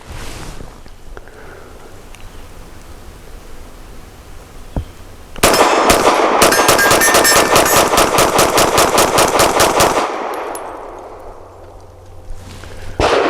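A Tisas Zigana PX-9 G2 pistol firing 115 grain ammunition outdoors, a loud rapid string of about twenty sharp shots in quick succession with metallic clangs, starting abruptly after quiet and ending with a fading echo.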